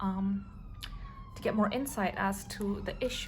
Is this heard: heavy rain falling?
no